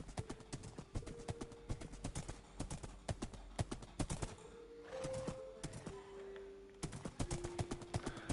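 Horse hooves clip-clop in Minecraft in a steady, fairly close rhythm that runs throughout, with a soft game tone humming underneath.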